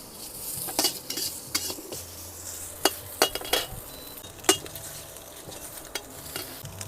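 Fatty cured Chinese pork (la rou) is stir-fried in a pan, with a spatula scraping and clattering against metal in irregular close strikes over a low background sizzle; no voices.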